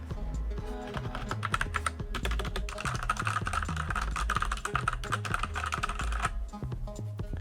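Rapid, continuous typing on a computer keyboard with multimedia keys, rubber-footed legs and a metal backplate, close and crisp with dense clattering keystrokes and no talking.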